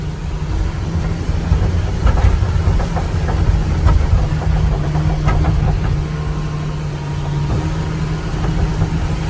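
A truck rolling along a road through a Florida swamp left underwater, a loud steady engine rumble with sloshing, splashing bursts over it, close and continuous.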